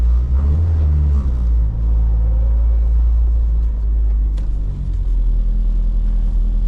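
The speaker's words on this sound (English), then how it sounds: "I'm test driving it really quickly to make sure the steering wheel is as straight as possible" A 1994–2001 Acura Integra on a test drive, with a heavy, steady low engine and road rumble filling the cabin, loud and continuous with no speech.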